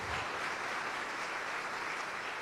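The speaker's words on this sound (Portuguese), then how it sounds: "quer aplaudir ao Senhor, pode aplaudir" A church congregation applauds, a dense steady wash of clapping from many hands filling the room, continuous and moderately loud with no voices over it.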